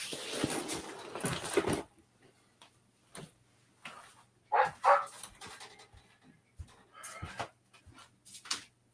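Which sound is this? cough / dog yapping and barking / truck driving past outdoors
dog yapping and barking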